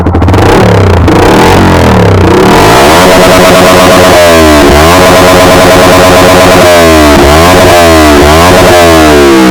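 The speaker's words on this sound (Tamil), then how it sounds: "இப்போ வந்து இதோட எக்ஸாஸ்ட் நோட் கேட்பேன் பாருங்க." A Yamaha R15 V4 motorcycle fitted with an aftermarket silencer, its exhaust loud and close, rumbling and revving with a rising and falling engine note throughout, no talk.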